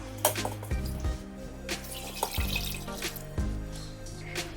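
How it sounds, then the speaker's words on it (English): One cup of water is poured into an Instant Pot, a close splashing and gurgling stream with a few sharp knocks and drips, and no talking. "First, I'm going to pour in 1 cup of water."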